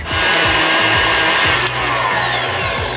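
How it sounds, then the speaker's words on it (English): Electric beater whisking egg yolks, whole eggs and sugar in a bowl, a loud continuous motor whine with a rhythmic rattle of beaters against the bowl, close up and alone. "Put your machine on and whisk."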